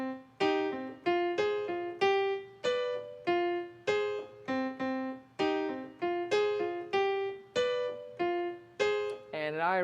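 Piano plays a syncopated salsa pattern on minor chords, repeated plucky chord stabs in a steady Latin rhythm, clear and close, with a brief vocal sound at the very end.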